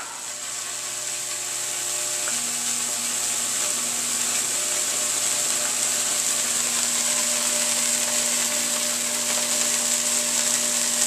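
PLL solid state Tesla coil throws seven inch arcs with a continuous buzzing, droning hum and high sizzle, steady and unbroken for over ten seconds, no voices present.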